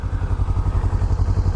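A Kawasaki Ninja 300 motorcycle with an aftermarket exhaust runs up close, its engine giving a steady, loud, rhythmic low thrumming throughout.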